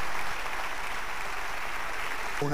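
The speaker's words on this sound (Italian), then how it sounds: "un applauso, facciamolo partire con un applauso" Audience applause at the Sanremo 2011 festival, a dense steady wash of clapping from a large crowd that holds evenly throughout, with a brief musical tone entering at the very end.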